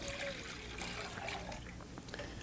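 Water being poured into one of two cooking pots for making raisin and walnut halva, a steady trickling stream at close range with no talk over it.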